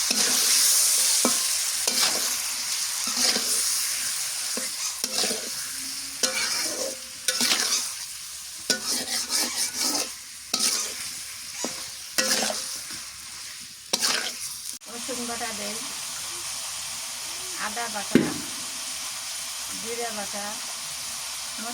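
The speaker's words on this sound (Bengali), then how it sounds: "এখন গোস্তগুলো দিয়ে দিই তেলের মধ্যে কিছুক্ষণ নাড়াচাড়া হলে তারপরে মশলা দিই" Pieces of broiler chicken stirred and frying in hot oil, a loud hissing sizzle broken by repeated scraping strokes of a spatula, with a voice speaking faintly at times.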